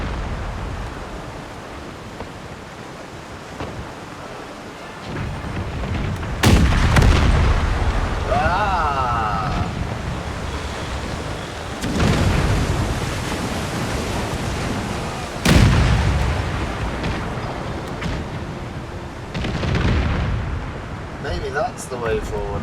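Heavy booming blasts of ship cannon fire in Empire Total War, several loud broadband bursts spaced a few seconds apart over a constant rumbling background, with a voice talking in between.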